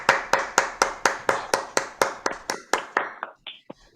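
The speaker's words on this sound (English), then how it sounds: "Let us give them a big round of applause." Small audience at a Toastmasters club officer installation claps in a steady, even rhythm of about a dozen crisp claps, close and loud, trailing off into a few scattered final claps.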